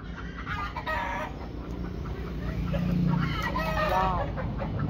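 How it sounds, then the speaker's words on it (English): Chickens cluck steadily with a rooster crowing among them, a busy farmyard chorus with voices talking over it. "Shut up, chickens."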